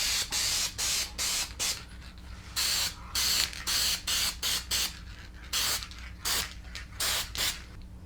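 Repeated short bursts of aerosol spray adhesive hiss out in quick, uneven pulses onto cardstock for a truck headliner repair, close and fairly loud, with brief pauses between each spray.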